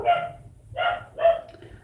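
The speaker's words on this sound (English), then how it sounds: "Man, these dogs are killing me." Dogs barking in three separate bursts, close by and fairly loud, with short quiet gaps between them and no talking.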